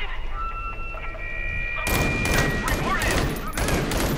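In the VR shooter Crisis on the Planet of the Apes, a burst of loud, rapid gunfire erupts after a quieter stretch with a faint tonal hum and continues in dense, crackling volleys.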